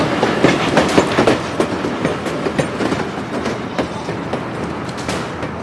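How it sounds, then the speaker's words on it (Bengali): A train rumbles steadily past at close range, with rhythmic clickety-clack of wheels over rail joints and a heavy, continuous roar, used as a sound effect in a Bengali horror audio story. "মাটি কাঁপিয়ে ট্রেনটা আমার পাশ দিয়ে এগিয়ে যেতে থাকলো।"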